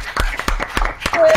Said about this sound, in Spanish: ¡Un aplauso para los dioses!